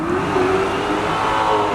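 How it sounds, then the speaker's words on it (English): A small block Buick Regal engine revs briefly, a loud, close rising engine note lasting under two seconds with no voices. "Yeah, that car sound good, man."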